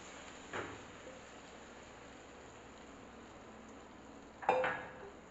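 Prepared soya chaap gravy with green chilies in a hot pan: a soft, steady sizzle with a brief scrape of stirring near the start and a louder splash and clatter of a utensil near the end.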